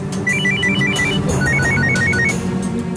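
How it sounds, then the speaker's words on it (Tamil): A phone ringtone plays for an incoming call, a repeating electronic melody of short, bright beeping notes in two quick phrases over a steady background bed in a Tamil TV serial scene. "அப்பா, ஆர்த்தி தான்ப்பா ஃபோன் பண்றா."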